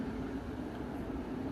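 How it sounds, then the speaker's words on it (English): Train passing at night, a steady low rumbling drone with a faint hum on top, distant and even for the whole stretch. "I want that train that's going past to just interrupt your night's sleep as well."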